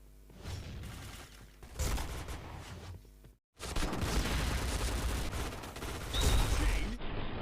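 Rapid gunfire from the video game Point Blank, fired with a no-recoil macro: dense bursts of shots rattle almost continuously and loudly, with a brief gap near the middle.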